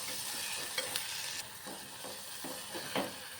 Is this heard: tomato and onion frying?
yes